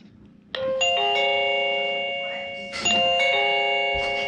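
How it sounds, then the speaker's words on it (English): A Heimvision C1 wireless doorbell chime rings out a bright two-part electronic melody, the first tones sustaining and fading before a second ring starts, loud and close with no talking. "after I put batteries in the chime, that makes a chime noise"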